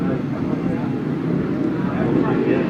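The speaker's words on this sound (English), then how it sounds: "Revving up then for this restart." Several 500cc solo grasstrack motorcycles rev together on the start line at a memorial grasstrack meeting, a loud continuous engine roar with wind buffeting and no clear gaps.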